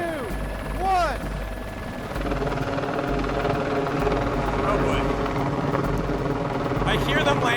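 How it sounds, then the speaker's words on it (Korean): A helicopter hovers low overhead, its rotor roar churning a heavy, continuous downdraft that grows louder and rougher after a short opening of high chirping sounds. "헬리콥터는 엄청난 하강 기류를 만들고 있었습니다"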